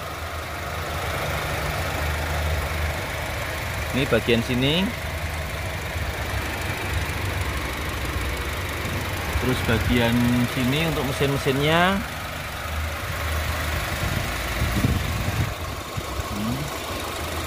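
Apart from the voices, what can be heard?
Honda Civic FB 2.0 2014 engine idling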